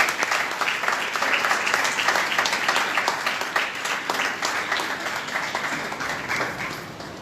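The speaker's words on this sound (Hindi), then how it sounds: "तालियां बजाएंगे इनके लिए" A church congregation at a Sunday service claps for a newly married couple: dense, sustained applause from a crowd that holds steady for several seconds, with no voices over it.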